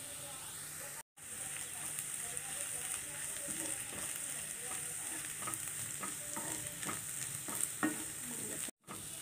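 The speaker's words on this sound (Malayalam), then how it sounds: "ഈ മഞ്ഞൾപ്പൊടിയിൽ പച്ചമണം മാറുന്ന പോലെ ഒന്ന് വഴറ്റി കൊടുക്കാം." Onions with turmeric powder sauté in a pan, giving a steady sizzle and hiss with occasional stirring scrapes, interrupted by two brief cuts to silence.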